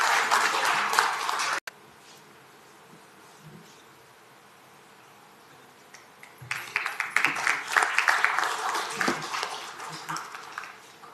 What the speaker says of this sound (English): So may I request for a round of applause for them?